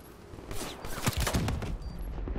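Gunfire in a three-versus-three shooter match, a flurry of quick close shots blending into a dense rattling burst, fairly loud against game noise.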